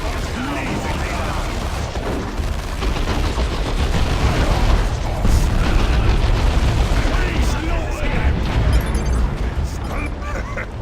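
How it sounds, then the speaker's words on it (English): Continuous rumbling explosions and battle noise from the video game Dawn of War 2: Retribution as stick bombs go off, loud and dense throughout with layered blasts and gunfire-like crackle. "This is where we want to use the stick bombs."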